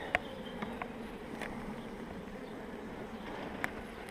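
Bees hum in a steady, soft drone from an opened hive at Roche Diagnostics in Meylan, with a few faint clicks and taps breaking through.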